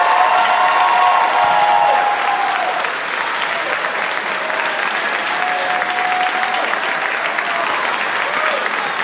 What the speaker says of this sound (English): let's give a special round of applause to our soloists